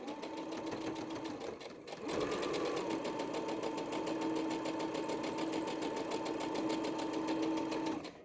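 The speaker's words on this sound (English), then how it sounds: "we're just going to stitch right on the edge, making sure you're back stitching" A sewing machine stitches along the edge of pajama shorts, running in a brief burst, pausing a moment, then humming with a fast, even needle rhythm for several seconds before stopping.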